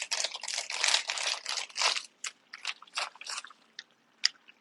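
Plastic packaging from a soft taco kit being cut open and handled over a baking tray, quiet close crinkling and rustling bursts that grow sparser toward the end.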